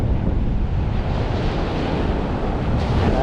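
Ocean waves at low tide on Navarre Beach, Florida, at night wash in and out as a continuous loud roar of surf, with wind buffeting the microphone throughout.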